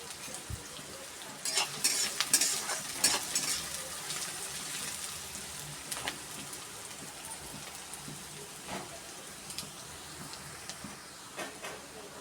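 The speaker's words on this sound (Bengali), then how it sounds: "পেঁয়াজটাকে একটু ভেজে নেবো, লাল লাল করে একটু হালকা ভাজা হয়ে যাবে" Onions fry in a pan with a soft, continuous sizzle and patter, louder in the first few seconds as they are stirred, then settling into a quieter, even hiss.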